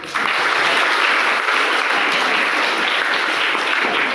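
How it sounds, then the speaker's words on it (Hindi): Students at Kaivalya Vidya Niketan school in Lonavala applaud together in a dense, loud burst of clapping that holds steady for several seconds with no talking over it. "इसके लिए ताली बजाओ"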